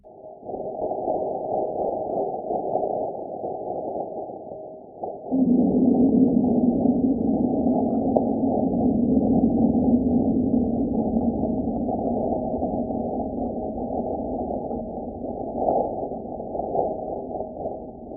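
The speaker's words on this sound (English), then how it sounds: "Later, it was discovered that the signals were from an impact of a meteoroid on the red planet." Seismic signal from a meteoroid impact on Mars, recorded by the InSight lander, rendered as sound: a low, muffled rumble that swells abruptly partway through and lingers as a steady droning hum.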